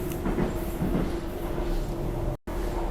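A Docklands Light Railway train rolls into a station with a steady, dense rumble and rattle of wheels on track, loud and close inside the carriage, cutting out briefly near the end.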